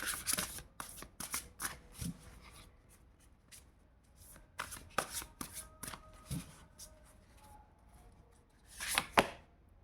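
Tarot cards being shuffled by hand give repeated crisp riffling bursts and soft slaps, close and fairly quiet, with brief pauses between shuffles and no talk.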